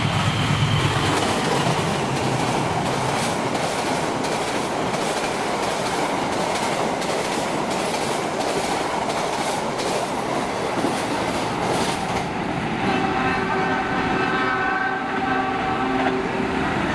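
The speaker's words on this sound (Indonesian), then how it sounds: "Selanjutnya kereta api Argo Cirebon 27" The Argo Cirebon passenger train in Indonesia rumbles past close by with loud, continuous wheel clatter, then its horn sounds in a sustained blast as the carriages roll on.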